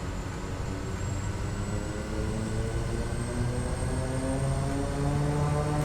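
A Kodiak 100 turboprop engine in Microsoft Flight Simulator 2020 runs at a steady drone with a high whine and layered propeller tones that rise slowly in pitch.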